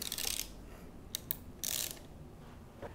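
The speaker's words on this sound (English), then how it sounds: "Tighten the bolts at the front first until they bottom out, and then tighten the bolts at the back lightly until they hold the handlebars in place." A ratchet wrench tightens the handlebar riser bolts on a BMW F850GS motorcycle, giving three short, quiet bursts of rapid clicking separated by pauses.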